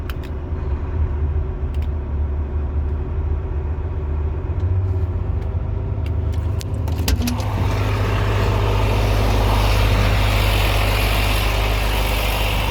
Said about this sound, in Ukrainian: Зараз газкуємо.